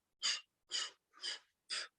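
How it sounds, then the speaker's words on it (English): Four short, loud, forceful exhales in an even rhythm come from a yoga breathing exercise, each a breathy sigh-like blow close to the listener, with brief silences between them. "we're going to take short and loud exhales, short sigh exhales, blowing"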